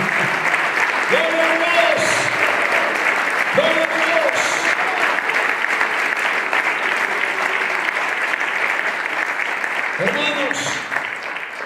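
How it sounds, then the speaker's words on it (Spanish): Loud, sustained applause from a church congregation at a national convention fills the whole stretch, with someone repeatedly shouting praise over it. "Denle un aplauso a Jesucristo."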